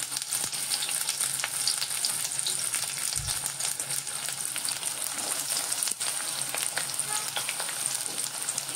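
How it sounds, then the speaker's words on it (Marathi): Sliced onion frying in a small amount of oil, with partly cooked potatoes in the pan, crackles and spits in a dense, steady close sizzle with scattered popping ticks throughout, no voices. "त्याच्यामध्ये हा आपण स्लाइस केलेला कांदा घालतो"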